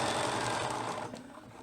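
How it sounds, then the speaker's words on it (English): A sewing machine runs a steady stitching line along the bottom of a pocket on a pair of ladies' pants, a close, even whir that eases slightly near the end. "I'm going to turn the corner and stitch again at the bottom all the way across."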